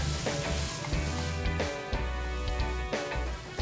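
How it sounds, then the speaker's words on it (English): Scrambled eggs sizzle steadily in a hot pan, a soft crackling hiss with occasional scraping from stirring, close up and without talking. "It's starting to sizzle a little bit."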